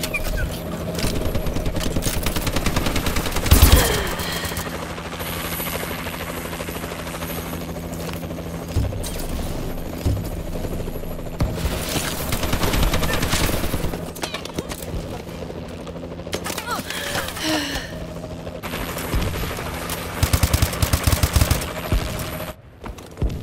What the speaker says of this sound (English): Warbird detected!